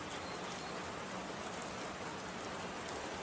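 Steady rain falls in an animated cartoon, a continuous soft hiss of downpour without pauses, heard alone with no talking over it.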